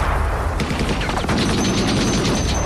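Gunfire during shooting training in a Foreign Legion film with Van Damme: dense, rapid volleys of shots over a loud, continuous noisy backdrop, with no clear pauses.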